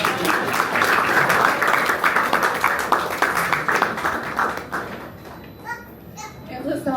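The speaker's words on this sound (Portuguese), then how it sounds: "Uma salva de palmas, Eugénia." Crowd applause at a book launch in a Fnac shop in Marshopping, dense steady clapping filling most of the clip before tapering off, with children's voices and chatter mixed in toward the end.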